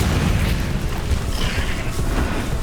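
A Confringo fire spell bursts in Hogwarts Legacy on Switch, giving a dense, sustained low rumbling blast that carries steadily through the whole stretch with no clear separate impacts.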